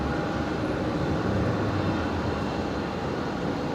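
Steady, continuous jet-engine roar from an airliner taxiing out toward runway 01 right at Brisbane Airport at night, a broad, even rumble held at a constant distance with no voices over it.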